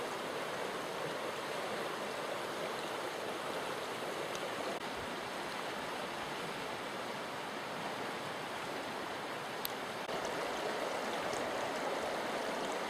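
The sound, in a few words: running river water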